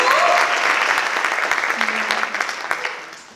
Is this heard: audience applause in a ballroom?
yes